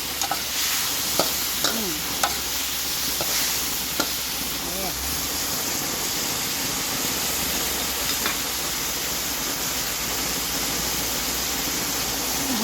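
Vegetables stir-fried in a hot pan or wok for a home breakfast dish, with a steady sizzle and hiss, scattered clinks and stirring scrapes throughout, and a faint voice in the first seconds.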